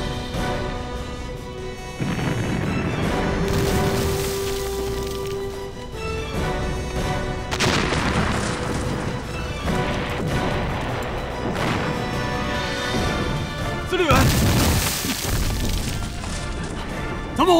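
Artillery shelling in a war film sounds as loud, dense crashing explosions and heavy booms, several big bursts rising out of a constant roaring battle din.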